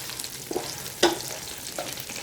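Slit green chillies frying in a pot for a pulao base, a close sizzle with a few quick stirring scrapes, one sharper clink in the middle, no voices.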